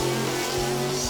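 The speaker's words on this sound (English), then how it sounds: "Spinning the wheels a little." A drag racing car at the launch, its wheels spinning briefly, gives a loud close engine roar with a steady tone under a rising rasp over just over a second.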